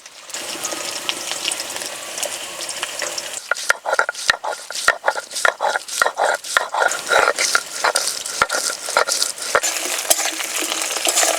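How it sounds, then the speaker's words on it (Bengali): Ginger is ground on a flat grinding stone beside potatoes frying in oil, so a steady sizzle gives way to rhythmic sharp knocks and scrapes of the stone, repeating about twice a second. "আলু ভাজা হতে হতে শিলে বেটে নেব।"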